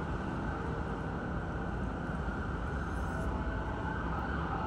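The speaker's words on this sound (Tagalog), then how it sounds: "may dumaan na ambulansya" A wailing ambulance siren blares close by over the constant roar of highway traffic, loud and unbroken throughout, heard from beside the highway.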